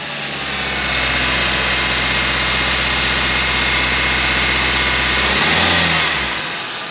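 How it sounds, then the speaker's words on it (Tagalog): A Toyota Altis engine idles loudly up close after a power steering fluid change, then briefly revs higher near the end before settling back down. "Sige, rev nyo para malaman natin kung umingay yung ano."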